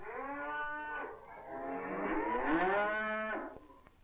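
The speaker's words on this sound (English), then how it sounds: "Twice a day, in the morning and in the evening, Inger milks our 3 cows." Cows mooing on a small Norwegian dairy farm at milking time, two long drawn-out moos in close succession, near and loud with a rising, bending pitch, with no other sound.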